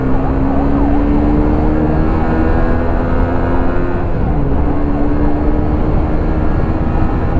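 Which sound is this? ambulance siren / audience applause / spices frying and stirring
ambulance siren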